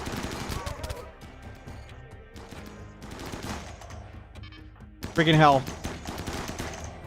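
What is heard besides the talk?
turrets firing machine guns in video game Water World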